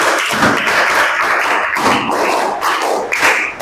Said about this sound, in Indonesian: Coba tepuk 1, tepuk 2, tepuk 3, tepuk 4, tepuk 5, 3 kali tepuk 5